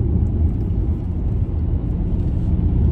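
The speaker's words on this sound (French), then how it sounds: "si on met un kick down, elle va démarrer le moteur thermique" A long-wheelbase Porsche Panamera hybrid's combustion engine starts on kick-down, giving a steady, loud low rumble from inside the car that continues throughout without talking.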